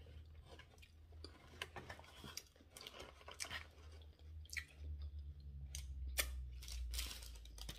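Someone bites into and chews a crispy Taco Bell taco with cheese, giving quiet, close crunches and moist chewing in irregular bursts over a low background rumble.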